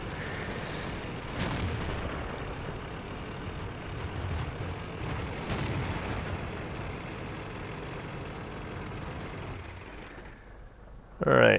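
Tank guns firing in World of Tanks around an FCM 50 t French heavy tank, a few heavy booming shots over a rumbling engine and battle backdrop, with a sharp loud burst at the end.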